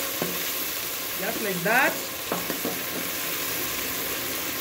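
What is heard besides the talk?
mushrooms frying in a pan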